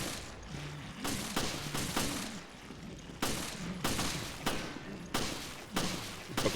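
Repeated bursts of gunfire in Resident Evil Revelations, several loud volleys spaced across the stretch with short gaps between them, booming over a low game soundscape.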